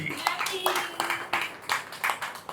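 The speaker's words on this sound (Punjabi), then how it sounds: "ਪੂਜਾ ਐਂਡ ਨੇਹਾ ਵਾਸਤੇ ਵੀ ਤਾੜੀਆਂ ਮਾਰ ਦਿਓ ਭਾਈ" A Diwali celebration crowd claps for Pooja and Neha, a rhythmic burst of handclaps roughly every third of a second, close and moderately loud, with voices over it.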